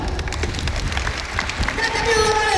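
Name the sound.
audience applause for Bhagat Singh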